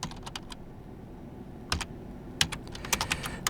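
Keystrokes on a computer keyboard while entering PowerShell code, sparse clicks early then quicker bursts of typing, close and fairly quiet with no talking.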